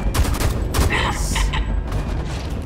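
Light machine gun fire in Homefront The Revolution, a rapid, loud, continuous rattle of shots with booming low thumps, close and dense throughout.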